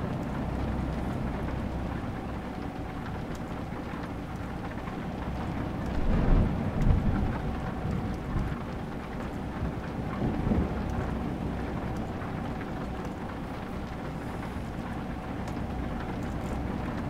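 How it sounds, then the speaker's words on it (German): Heavy rain falls steadily during a night thunderstorm on steep mountain roads in Romania, with low thunder rumbling up twice in the middle over the constant downpour. "Schon Gewitter bei Nacht hat dann doch wieder was ganz anderes"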